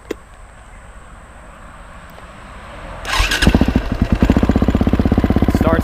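A 2005 KTM 450EXC supermoto motorcycle with a lithium battery cranks briefly and fires up, settling into a loud, steady, rapid single-cylinder idle thump close by after a quiet opening.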